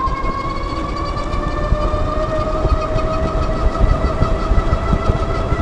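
A dual-motor Meelod DK300Max e-bike pulls away from a standstill, its electric motors giving a loud, steady, slowly rising whine over a constant rumble of wind and road noise, with no voices.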